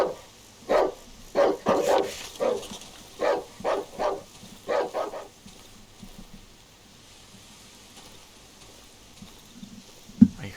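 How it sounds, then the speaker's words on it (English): A dog barks repeatedly in a series of about ten sharp, closely spaced barks over the first five seconds in the horror video game Darkwood, followed by quiet ambience and a single faint knock near the end. "I think the barking was coming from"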